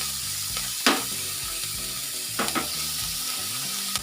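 Potato sheets frying in oil make a steady, close sizzle, with a few brief sharp crackles and pops and a low hum underneath throughout.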